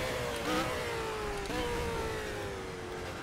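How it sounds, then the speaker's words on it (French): A race car engine in the racing game Project CARS drones and revs steadily at moderate volume, with pitch shifts as gears change, and no talk over it. "Alors attention, on a une voiture derrière."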